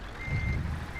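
Truck reversing alarm beeps in Euro Truck Simulator 2 multiplayer, a steady high tone heard briefly over a low rumbling idle engine.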